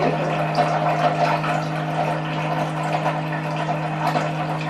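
A mixed fruit drink is poured into a glass at home, a steady continuous liquid rush lasting several seconds over a constant low hum.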